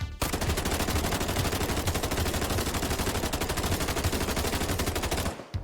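M7 LMG firing 7.62x51mm rounds at 739 RPM in the shooter game The Division: one sustained, rapid automatic burst of evenly spaced loud shots lasting about five seconds before cutting off.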